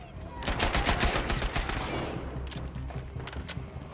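Dense, sustained gunfire from the World War II shooter game Battlefield V, a loud volley of overlapping shots and bursts that thins out into scattered, more distant firing.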